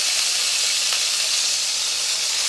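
Onions fry in a pan with a loud, steady, close hiss of sizzling oil that runs unbroken throughout.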